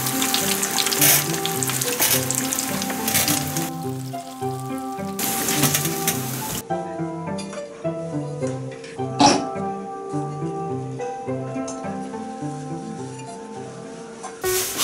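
Fish karaage and fish scales deep-frying in hot oil give a steady crackling sizzle that runs the whole time, close and fairly loud, mixed under background music.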